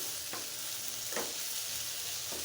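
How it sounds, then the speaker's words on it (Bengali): Snake gourd with salted hilsa fries in a pan, giving a steady close hiss of sizzling oil broken by three brief scraping stirs. "ভাজাটা আরও কিছুক্ষণ ভেজে নেব।"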